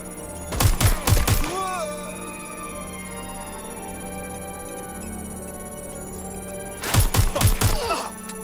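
Bursts of rapid automatic fire come from a turret in Watch Dogs: Legion, one short rattling volley near the start and another near the end, with a steady low background hum between them.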